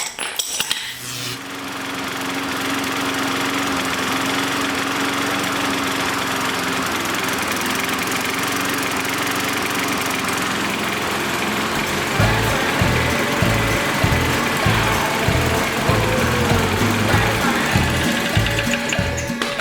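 A small lawn-mower-type engine with a bent crankshaft starts and runs steadily, a loud continuous drone that turns into a heavier, pulsing rhythmic knock in its second half as the vibration builds.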